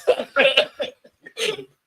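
Several sharp, clustered coughs in a quick burst, then a short pause and one more harsh cough, close to the microphone.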